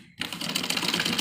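A sewing machine runs in a steady, rapid clatter while stitching a child's Afghani-style salwar, starting abruptly after a brief silence and continuing evenly close by.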